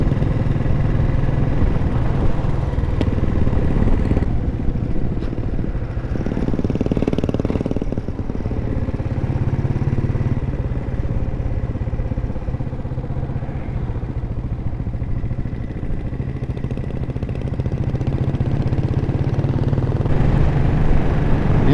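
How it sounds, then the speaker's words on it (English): Old pre-war motorcycle engines, including a 1934 Ariel, run steadily at idle throughout, a loud continuous low mechanical thrum with clattery texture and slight swells in level. "Yeah, the sounds of these old bikes, you cannot beat them."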